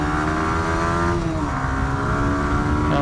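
A 2023 Yamaha 125 motorcycle accelerating onto an expressway, its engine note rising in a steady loud whine, briefly dipping at a gear change and then climbing again, heard up close over constant wind roar with no talking.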